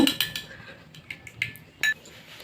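A single egg is cracked into a bowl for a bachelor-style paratha, then whisked briefly, giving a series of close, sharp clinks and taps of utensil against the bowl rim, with short quiet gaps between them.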